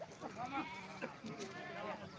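Several sheep in a temple flock at Balumama temple, Belmachi, bleat in quick overlapping wavering calls, close and fairly quiet, with no talking over them.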